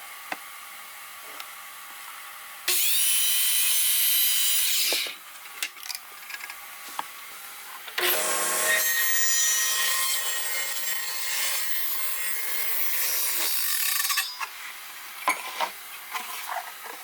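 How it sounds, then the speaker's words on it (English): A miter saw trims the overhanging edges of a wooden floating shelf in two loud, close cutting passes, each a few seconds long, with quieter handling sounds between them. "So we'll go over to the miter saw,"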